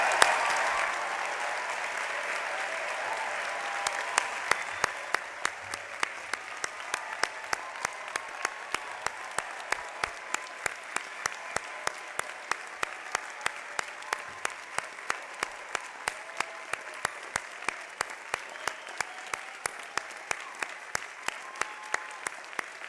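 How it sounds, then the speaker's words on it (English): Audience applause for graduating students at a commencement ceremony: a swell of clapping that settles into a long, steady rhythmic clapping that continues to the end, with a few faint voices. "join me now for a really robust round of applause for these students"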